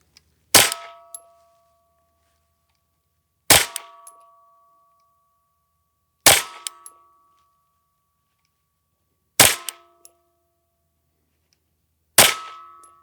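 Five sharp gunshots from an M&P FPC folding rifle, spaced about three seconds apart at a steady pace, each a loud crack with a brief metallic ring, with no talking between them.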